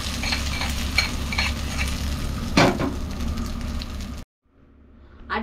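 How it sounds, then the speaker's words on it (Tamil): Hot tempering poured into ground carrot chutney gives a close, loud, steady sizzle with stirring scrapes, breaking off abruptly into near silence before a faint final clink. "கேரட் சட்னி அரைச்சாச்சு தாலிப்பை கொட்டிக்கலாம்"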